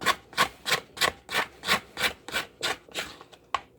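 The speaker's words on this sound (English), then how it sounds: "So again, here we go with my scraper." A dough scraper works through a bowl of sandwich bread dough, giving about ten close, steady scraping strokes in an even rhythm, alone with no talking.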